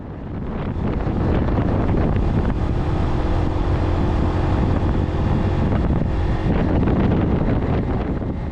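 Strong wind buffeting the microphone while riding a motorbike over a mountain pass between Buon Ma Thuot and Kon Tum, a loud continuous rumbling roar with no talk.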